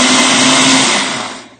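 Blendtec blender whirring loudly as it purees rolled oats into a vegan creamer, a dense constant roar close up that begins to wind down near the end.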